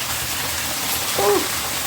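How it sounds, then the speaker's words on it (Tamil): Inside a dark cave temple, water streams down in a steady, close rush, with a brief tonal squeak or voice-like sound rising briefly over the flow. "மேலே அப்படியே தண்ணியாக ஊற்றிக்கிட்டு இருக்குது"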